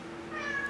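A shelter cat from a cat room meows once, a near, clear, rising call that fills the short moment on its own.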